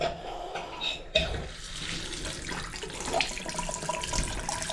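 Water runs steadily from a tap, a broad continuous hiss with a brief clunk near the start as the flow changes.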